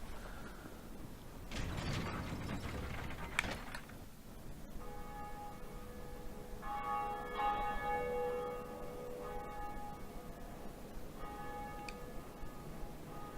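In the Dark Souls game, heavy mechanical clanks and grinding gears are followed by a bell ringing out in repeated resonant strikes whose tones linger and overlap, fairly loud and without speech.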